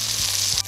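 Butter sizzles in a hot pot: a short, bright hiss with a low hum beneath it that cuts off abruptly near the end.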